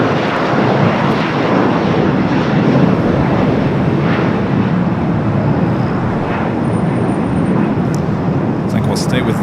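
An Air Tahiti Nui Boeing Dreamliner jet roars at Los Angeles International Airport, a loud, sustained engine rush that stays steady throughout.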